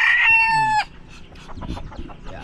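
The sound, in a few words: chickens clucking and rooster crowing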